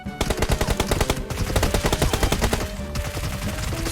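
Rapid automatic gunfire from PUBG Mobile: dense, loud bursts of shots in quick succession, nearly continuous with brief pauses, close and dominating, no talking.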